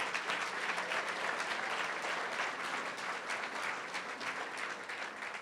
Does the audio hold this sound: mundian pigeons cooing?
no